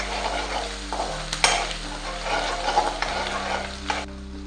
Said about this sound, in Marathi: लसूण पेस्ट सुद्धा यामध्ये मस्तपैकी अशी शिजू देणार आहे मी।